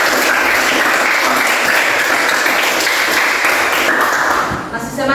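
A class of students applauds together in a steady, loud wash of clapping that fades out at the end, with a voice coming in afterward.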